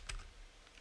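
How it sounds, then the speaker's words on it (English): Computer keyboard typing, a few quick, faint key clicks close by in a quiet room, with a brief pause between them. "Okay, my keyboard, I need to get a new keyboard."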